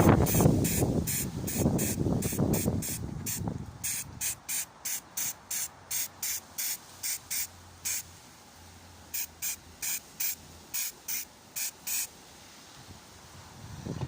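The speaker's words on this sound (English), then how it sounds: "so I'm now going to spray the bottom of the model." A spray paint can hisses in a long blast and then in a string of short, rhythmic bursts, close by, spraying a Warhammer 40k model, with a windy rush underneath at first.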